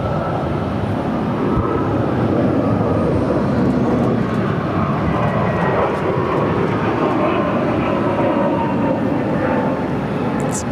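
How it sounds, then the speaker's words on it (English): Delta Airlines Airbus A321-200 jet airliner at Phoenix airport, a loud, continuous broadband engine roar holding steady throughout with no speech over it. "Delta Airlines flight 884 headed to JFK on an Airbus A321-200"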